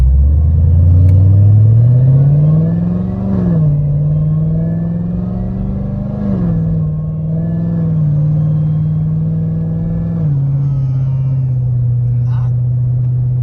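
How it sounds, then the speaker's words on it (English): A Ford Spark's exhaust drones low and loud as it drives, the pitch climbing through gear shifts and then holding steady while cruising. "exhaust is still really loud"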